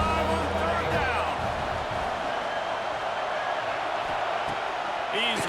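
Stadium crowd noise from an Ohio State home game in EA Sports College Football 26 roars steadily beneath play-by-play commentary, a continuous broad wash with brief whoops rising near the end.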